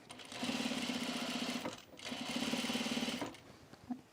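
Sewing machine stitching across a seam while assembling a V-neck coat, two steady rapid runs of needle chatter, each about a second and a half, separated by a short pause, with a small click near the end.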